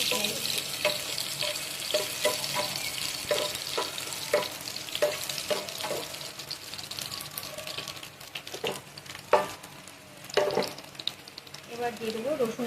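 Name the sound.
chopped onion and dried chili frying in hot oil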